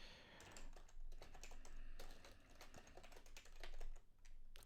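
Rapid, close keystrokes clatter on a computer keyboard in an uneven burst of typing with brief pauses, fairly quiet overall and without voices.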